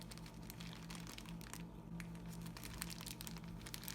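A plastic bag crinkles steadily while it is gathered around a spray bottle during colored porcelain powder preparation, a soft, continuous close-up rustle at low volume with a faint hum underneath.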